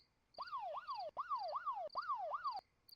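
A siren sound effect plays alone, with a loud rising and falling wail that repeats in three even cycles, each about three-quarters of a second, over a steady high tone, then stops.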